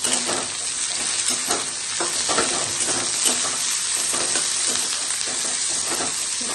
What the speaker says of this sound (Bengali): এখন টমেটো দিয়ে দিচ্ছি, এইভাবে টমেটো দিয়ে দিলাম।